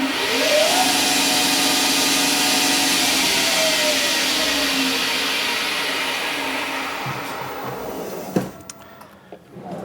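A metal lathe spins up with a workpiece for a hand scraper handle, a loud steady motor whine with a rising tone at the start, holding evenly before winding down with a few clunks near the end.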